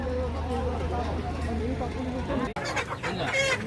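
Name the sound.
chickens clucking at a livestock market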